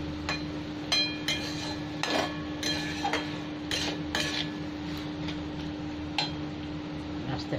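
A spoon clinks and scrapes against a cooking pot while Bengali-style raw pumpkin curry is stirred, with irregular sharp metallic knocks over a steady low hum.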